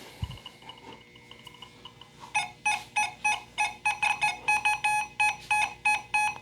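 An XP Deus II metal detector sounds over a V-nickel, giving a series of repeated mid-pitched electronic beeps in a steady pulsing rhythm after a quiet start.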